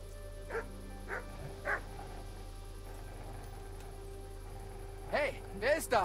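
A dog in the video game Kingdom Come: Deliverance barks several times in short bursts, first a few spaced barks, then a louder cluster near the end, over a steady low hum.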